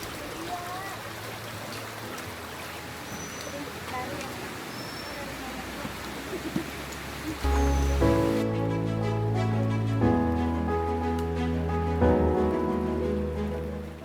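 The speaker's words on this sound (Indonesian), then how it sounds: "Kita menemukan aliran sungai di panjang trek Kawaratu." A forest stream on the Kawah Ratu trail of Gunung Salak gives a steady, close rushing wash of water for about seven seconds before music rises and covers it.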